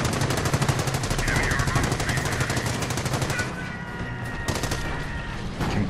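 Rapid machine-gun bursts from an MG nest in the Normandy battle of the strategy game Company of Heroes rattle loudly and fast, then thin out to scattered shots with softer background battle noise.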